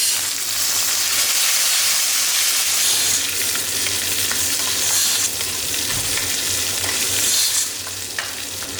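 Small onions frying in a pan with ginger and garlic for a mutton bone curry, a loud continuous sizzle close by with scraping stirring sounds and a brief dip near the end.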